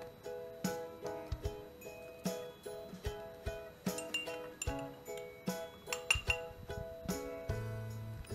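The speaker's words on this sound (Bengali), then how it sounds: "আমি এবারে মিশিয়ে নেব এর মধ্যে নুন।" Homemade banana chips being tossed with salt in a bowl, producing a steady run of crisp, rhythmic clinks and rustles, fairly close and moderately quiet, without speech.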